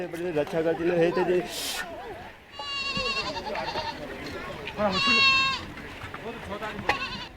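Goats bleating in Langtang Valley, Nepal, several wavering cries close by with gaps between them, mixed with a voice talking and other crowd sounds.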